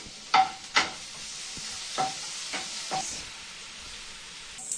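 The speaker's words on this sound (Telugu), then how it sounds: "ఇప్పుడు ఇక్కడ కూడా వేసుకొని దీన్ని ఫ్రై చేసుకుంటాము" Chopped garlic frying in a pan for garlic paneer 65, with a soft, constant sizzle broken by several distinct stirring scrapes, the two loudest near the start.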